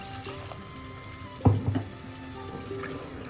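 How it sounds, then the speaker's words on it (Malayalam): Water splashes into a pot of fish curry in a short burst, clear and close, over a low kitchen hum. "1/2 ഗ്ലാസ് വെള്ളം ചേർക്കാം."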